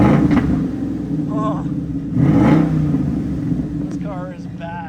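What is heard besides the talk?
2012 Ford Mustang Boss 302 5.0L engine revving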